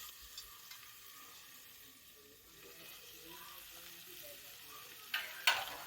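Potatoes frying in a pan with green chutney added for poha, a soft continuous sizzle under faint background noise, ending with a couple of louder clattering stirs.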